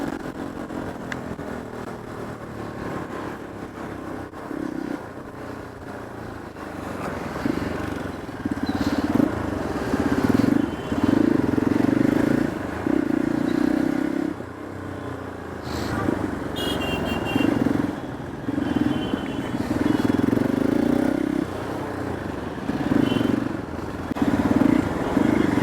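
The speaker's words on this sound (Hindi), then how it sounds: "जब मैं खड़े होकर बाइक चलाता हूँ तो कैसे चलाता हूँ।" A motorcycle ridden by someone standing on the pegs gives a mid-pitched engine drone that rises and falls as the throttle changes, mixed with wind and road rumble, with no talking.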